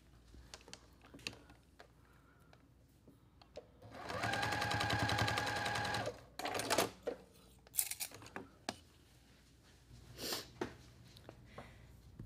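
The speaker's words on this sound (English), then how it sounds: "And then I'm just gonna sew right back over there." A sewing machine stitches back over a quilt block seam, running steadily for about two seconds near the middle, with faint clicks and handling noises before and after.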